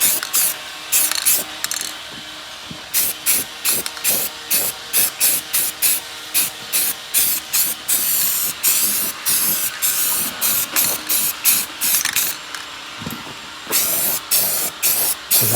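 Rust conditioner sprayed in a long series of short hissing bursts onto bare metal on the underside of a 1970 Dodge Challenger, close and loud, steadily repeated with short pauses between.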